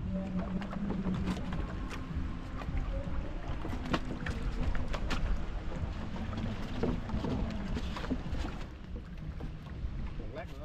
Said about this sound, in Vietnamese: Hiện tại thì đang bơi xuống rớ của anh Thuận để hỗ trợ cái nha